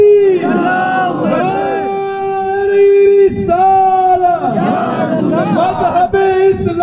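A large crowd at an Urs gathering roars the takbir slogan back in unison, loud sustained chanted voices rising and falling in two waves with overlapping shouts.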